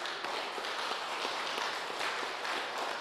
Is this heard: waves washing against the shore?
no